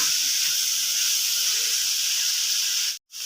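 Diced carrots fry in a hot pan for chicken fried rice, giving a loud, steady close hiss that cuts out abruptly at the end.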